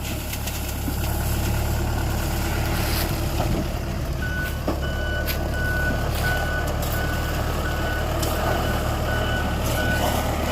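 An old truck idles steadily as a backhoe loads a heavy load of gravel into it, with repeated reversing beeps ringing out over the constant engine rumble and scattered clunks.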